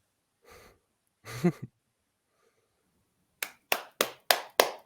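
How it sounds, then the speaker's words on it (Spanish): Scattered handclaps from an audience at a talk: a few faint breathy sounds first, then five sharp, evenly spaced claps close by near the end, with no crowd roar behind them. "Abrimos el micro para aplaudir"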